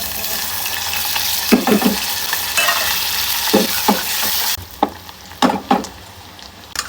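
Onions hitting hot oil in a wok with cardamom and cinnamon for a dried churi fish and egg curry, sizzling steadily with a few sharp clanks of stirring, quieter toward the end.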